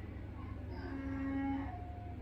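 Donkeys calling from a nearby paddock at dinner time, a drawn-out braying bellow that swells midway through and then fades, heard faintly from outdoors through a window with no talk.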